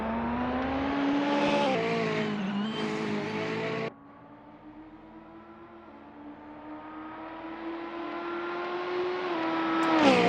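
Alfa Romeo race cars at an AROC championship round take the last corners, their engines droning loud and steady with rising and falling pitch as they brake and accelerate past, heard without any talk.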